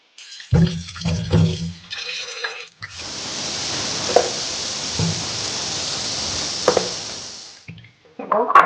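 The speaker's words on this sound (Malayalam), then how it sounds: "ആറ് തക്കാളി കഴുകി എടുത്ത് വയ്ക്കാം ആറ് ഇത് നമുക്ക് വെള്ളത്തിലിട്ടൊന്ന് ഒന്ന് ക്ലീൻ ചെയ്ത് വയ്ക്കാം" Tomatoes being washed in a bowl of water for a duck curry, with a few soft squishes and drips at first, then a long steady wet rush of sloshing water that stops abruptly near the end.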